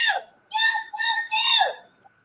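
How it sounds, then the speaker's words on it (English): Recorded kid screaming, high strained wails in three sustained bursts that rise and fall and then trail off, loud and close with no other voices. "What are we supposed to be listening to? The person, this kid screaming?"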